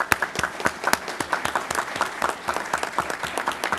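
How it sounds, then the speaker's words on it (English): Dense applause from a crowd at a Plymouth, Massachusetts select board meeting, honoring police officers who were just promoted and sworn in; irregular overlapping claps fill the whole stretch at an even, lively level with no talk over it. "let's give them another round of applause."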